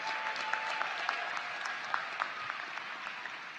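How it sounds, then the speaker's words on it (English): Steady applause from a large audience at a university commencement ceremony, dense clapping with a few sharper claps standing out, continuous throughout. "Give them a round of applause."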